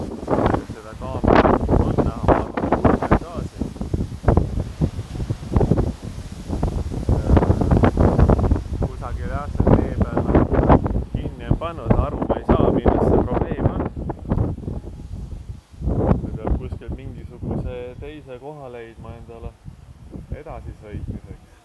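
Strong stormy wind buffets the microphone outdoors near the sea on the northern part of an island, loud rumbling gusts rising and falling throughout while someone talks.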